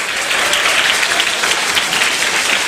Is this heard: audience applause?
yes